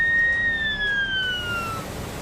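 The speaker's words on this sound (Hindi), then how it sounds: "खतरे के सायरन बजने शुरू हो गए।" A flood warning siren sounds after the Chenab river swells in Doda district, Jammu and Kashmir, its steady tone gliding slowly downward at a distance over a constant low rumble, with no voices.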